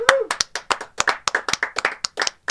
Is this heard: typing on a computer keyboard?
no